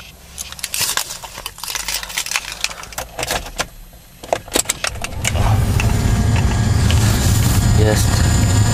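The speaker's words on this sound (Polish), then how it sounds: "zobaczymy, jak odpali autko" Keys jangle and clatter inside a car in -12 degree frost, then the engine of a high-mileage car with 383,000 km cranks and catches near the five-second mark, settling into a steady, close idle. A voice speaks briefly over the handling noises.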